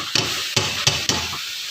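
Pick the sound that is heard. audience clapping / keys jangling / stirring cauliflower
stirring cauliflower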